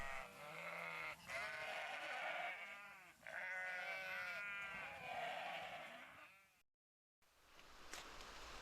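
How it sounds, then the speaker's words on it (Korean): Sheep and goats on a large farm grazing site bleat in long wavering calls, several overlapping loudly in close succession before a short silence and a quieter ambient tail. "라선시 시내 농축산물 생산 분사업소에서 양과 염소를 비롯한 풀 먹는 집짐승을 대대적으로 기르고 있습니다"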